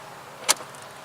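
The electric door on a 2017 Lincoln Continental releases with a single short, crisp click-thunk, heard up close in an otherwise quiet setting.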